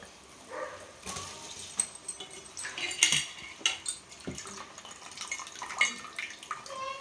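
Rice added to a pot of drumstick biryani and stirred: soft, uneven clinks and scrapes of a utensil against the pot with some wet shuffling, fairly quiet and close.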